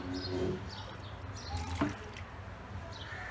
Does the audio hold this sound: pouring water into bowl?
yes